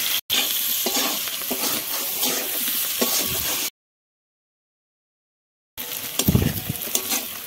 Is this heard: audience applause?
no